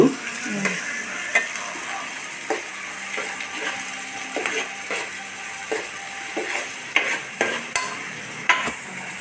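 Sliced onions frying in a pan for a fish curry, stirred now and then: a steady close sizzle broken by light, irregular scrapes and taps of the spoon, no voices.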